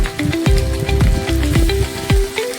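Cumin paste added to a hot frying pan on low gas for a vegetarian doi potol curry, sizzling loudly with repeated stirring scrapes.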